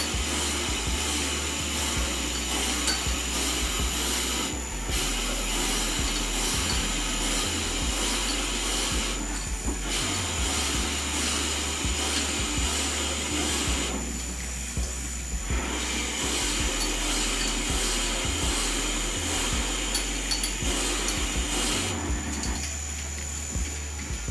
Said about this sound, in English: So we'll drill the hole to depth.